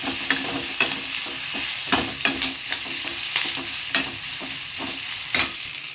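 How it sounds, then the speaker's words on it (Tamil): Onions sauté in a pan for an onion sambar, with a steady close sizzle and frying crackle. A spoon scrapes and stirs against the pan in irregular, sharp knocks throughout. "வெங்காயம் வதங்கிட்டோம் சிம்மில் வச்சுருங்க அடுப்பை"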